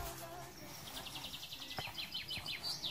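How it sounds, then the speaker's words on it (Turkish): Birds chirp around a village house in Kastamonu, with quick repeated tweets and short call phrases coming in rapid bursts over faint outdoor ambience. The birds sound moderately close. "Evet, kuş sesleri her tarafta cıvıl cıvıl."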